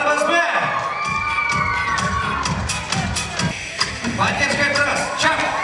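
A lively audience in a hall at a youth model contest, a crowd cheering and shouting with scattered clapping in a steady, loud wash throughout.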